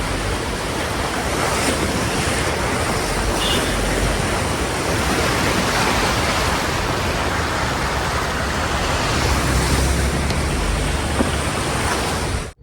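Loud, continuous rushing and churning of water as a car drives through deep floodwater in Assam, a steady wash of noise with no voices.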